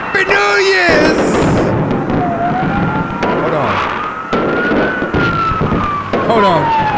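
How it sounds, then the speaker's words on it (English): Fireworks burst and crackle just after midnight on New Year's, mixed with a wailing siren and loud chatter from a nearby crowd, the bangs and crackles continuing throughout. "Isn't that fireworks?"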